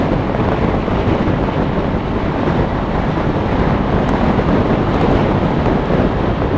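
Heavy, constant wind buffeting a microphone, a loud roaring rumble that never lets up, with no voices.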